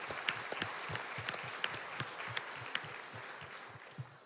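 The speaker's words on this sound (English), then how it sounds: "All of you volunteers, we want to give you a round of applause." A banquet audience gives volunteers a round of applause, a soft, distant, steady patter of many hands with a few sharper claps standing out, faint in the room.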